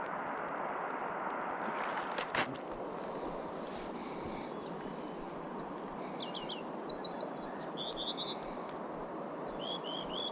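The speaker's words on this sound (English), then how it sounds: "That's the American Dipper." An American Dipper calls by a clear, slow winter river, with several short, high, sharp chirps in quick clusters over steady loud rushing water.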